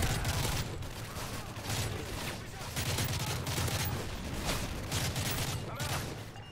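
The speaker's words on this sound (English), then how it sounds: "Well, that's an airstrike." Airstrike explosions and rapid gunfire in the shooter game Black Ops 3 form a steady, dense barrage of bursts and thuds at moderate loudness, with faint voices underneath.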